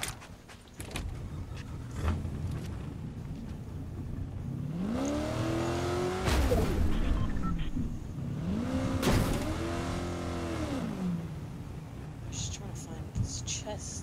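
A car engine in the Fortnite video game revs and swells twice, rising and falling in pitch with creaking mechanical sounds over a steady game background.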